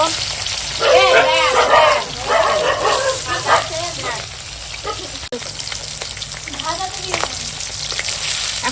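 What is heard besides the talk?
fish frying in hot oil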